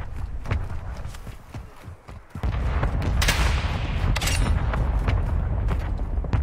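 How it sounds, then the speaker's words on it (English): Mortar strike explosions in a military video game land as a loud, sustained roar of booms and blasts after a brief lull, with sharp gunfire-like cracks scattered across the barrage, sounding close and heavy. "Mortar strike inbound now."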